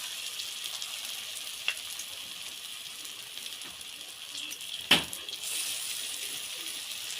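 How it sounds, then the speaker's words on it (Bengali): Small fritters of bitter himche greens fry in oil over low heat, giving a quiet, steady sizzling hiss broken by two brief sharp pops. "ছোট ছোট করে বড়া করে নেব।"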